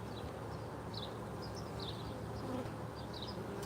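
Honey bees buzz around a hive on a farm, a dense background drone with a few passing bees whirring closer.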